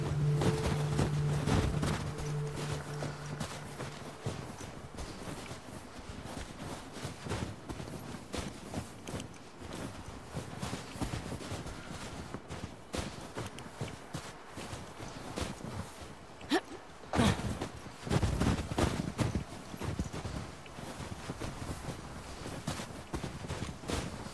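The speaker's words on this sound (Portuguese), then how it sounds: "Os cavalos seguem nós." Horses' hooves clip-clop in The Last of Us Part II, an irregular run of soft hoofbeats and scuffs under steady wind, with a low hum in the opening seconds.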